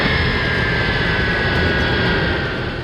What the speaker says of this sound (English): the shaking plane touches down on the runway